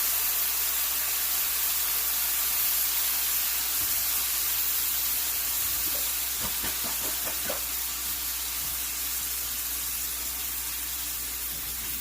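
Chicken curry marinade sizzles steadily in a hot pan, a soft hissing crackle that continues throughout, with a few faint clicks partway through.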